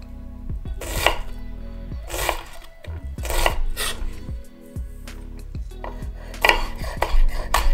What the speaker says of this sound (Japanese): こんな感じでばらけずに玉ねぎを縦に切ることができるので